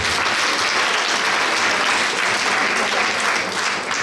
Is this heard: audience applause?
yes